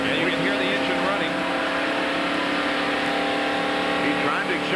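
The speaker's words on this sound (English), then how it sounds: "And you can hear the engine running." A loud stock car engine runs close by at a steady high idle, about 4,000 RPM in fourth gear, its droning harmonic hum occasionally rising, with voices talking over it, at the 1992 Hooters 500.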